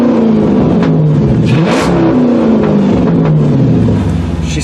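V8 engine fed by a Camry fuel pump, revving loud and close with rising and falling pitch sweeps over a rough idle, no voices.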